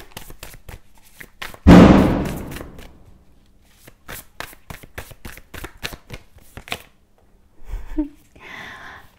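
Tarot cards shuffled and pulled in a rapid riffling flutter, with a loud thump of the deck early on, then a run of quick crisp snaps and slides close to the mic, ending with a short burst of noise.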